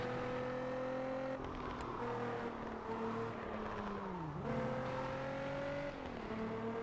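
A racing car in a Nintendo Switch racing game, its engine whining through repeated revving climbs and gear-shift drops, with tire and track noise underneath and no talk.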